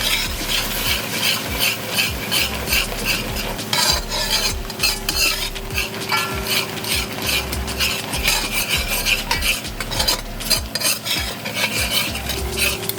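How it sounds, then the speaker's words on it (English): Curry paste and water are stirred in a pot, loud rhythmic scraping of a spoon against the metal over a steady sizzle, the strokes repeating close up at a brisk even pace. "I'm gonna put some water in just to get the curry into a paste."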